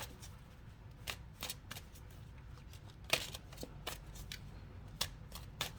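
Tarot cards shuffled and drawn by hand, a soft riffling bed broken by crisp, close card snaps and flicks at irregular intervals, with no talking.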